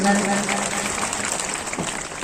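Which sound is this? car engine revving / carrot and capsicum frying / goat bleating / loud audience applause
loud audience applause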